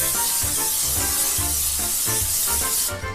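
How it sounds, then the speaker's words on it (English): Cooking spray hisses from an aerosol can onto plastic wrap stretched over a pan, a steady close spray with brief pulses, loud and continuous throughout. "Now I'm gonna hit the plastic wrap with some more cooking spray"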